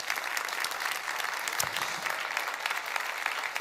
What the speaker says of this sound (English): Let's give them maybe also a round of applause.